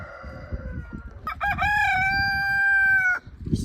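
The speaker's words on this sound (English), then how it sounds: "Hello, chickens and ducks." A backyard rooster crows loudly and close by in one long drawn-out call, with scattered clucking from chickens and ducks around it, in a shady spot under cover.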